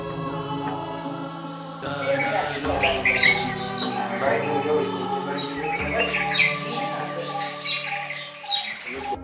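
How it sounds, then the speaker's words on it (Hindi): Several birds chirp and call around a temple in the Gir forest, Visavadar district, with bright repeated tweets over a busy mix of other bird song and some cooing, fairly close and steady throughout. "बहुत सारे पक्षी देखने को मिलते हैं और उनकी मीठी आवाजें सुनाई देती है।"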